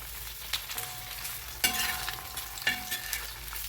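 Masala sautéing in a pan for egg curry, a continuous sizzle with several sharp spatula knocks and stirring scrapes, close and without voices.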